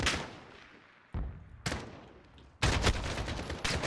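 Sniper rifle gunfire in the video game Call of Duty Modern Warfare: a few sharp, loud shots with abrupt onsets and decaying tails, spaced irregularly, then sustained heavier firing toward the end, with no talk.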